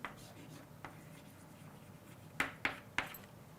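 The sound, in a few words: writing an equation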